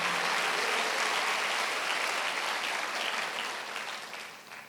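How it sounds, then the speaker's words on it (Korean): Sunday worship congregation in a church breaks into dense, sustained clapping that holds steady and then gradually thins and fades toward the end. "박수야"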